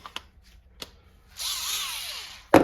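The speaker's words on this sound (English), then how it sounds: "start running some screws in." A power drill drives screws into a BRP snowmobile track while it is fitted with Super Spike studs. A few sharp taps come first, then one short whining drill burst, then a loud knock at the end.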